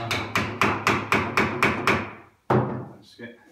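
Tapping a wedge into a pine wardrobe during assembly: seven sharp, evenly spaced hammer knocks on wood in quick succession, then a pause and one final louder knock, each hit ringing close and distinct.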